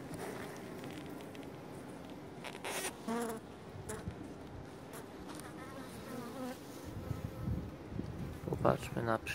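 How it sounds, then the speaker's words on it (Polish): Honey bees buzz at a small-cell (4.9 mm) hive, a soft steady drone with individual insects passing close, quiet throughout, with faint voices and light handling noises. "Super organizm. Pszczoła miodna."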